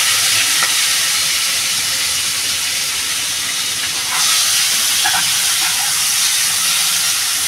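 Prawns fry in hot oil for a Bengali kochu shaag dish, giving a loud, continuous close-up hiss and crackle that surges briefly partway through, with no voices.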